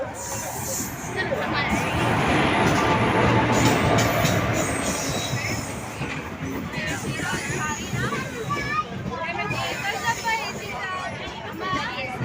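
A train pulls into a busy Konkan railway station with rumbling wheels, rattling carriages and squealing brakes, under loud crowd hubbub and people talking close by.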